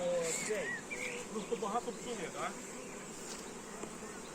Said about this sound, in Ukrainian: І вони зараз туди злітаються.